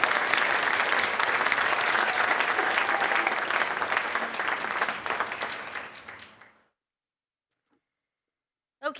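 An audience at a school president's reception applauds to congratulate a speaker, with sustained, dense clapping for about six seconds that fades into silence.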